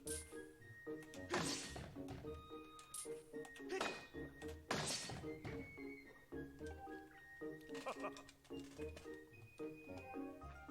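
A sword thrust in the video game The Legend of Zelda: Skyward Sword, with faint game sound effects: several sharp whacks and thunks in a row, with chimes and background game music underneath.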